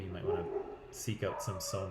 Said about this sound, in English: I'm sorry about the dogs in the background here.